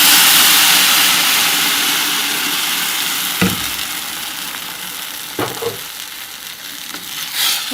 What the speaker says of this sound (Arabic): ومعايا هنا عصير طماطم هنزل بيه كده على البصل بعد ما اتحمرت